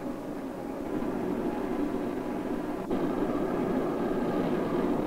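Steady, dense roar of a BOAC airliner's engines at full power for takeoff, a continuous broadband rush holding level throughout with no break or voices.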